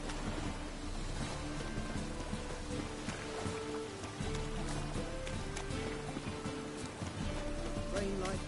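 Steady rain hisses throughout a scene in the video game The Witcher 3: Wild Hunt, a constant wash of sound layered with music and other game audio.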